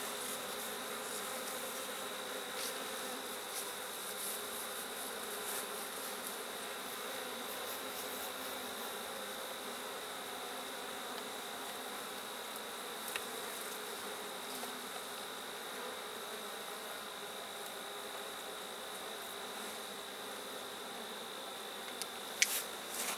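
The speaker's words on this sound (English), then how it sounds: "Stay there, bees." Steady, continuous buzzing of honeybees close by at an open hive during requeening of a drone-laying colony, holding a constant drone throughout with a few faint clicks near the end.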